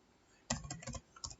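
A computer keyboard typed briefly after a pause: a quick burst of several crisp key clicks, then a short gap and two more taps, close and fairly quiet, as a network command is entered.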